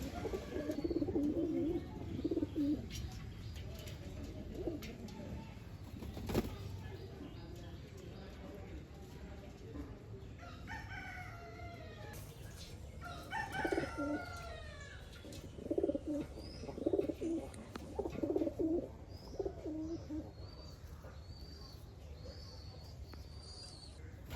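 Pigeons at a bathing spot coo in soft, low bursts, scattered among rustling and faint movement, fairly quiet and close, with pauses between calls.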